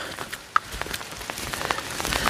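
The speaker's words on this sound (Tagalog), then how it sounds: "Pag akyat ng bundok, ang lakas pala ng ulan dito." Heavy rain patters on a surface in a mountain forest, with scattered distinct drops hitting nearby, a steady wet hiss underneath, no voices.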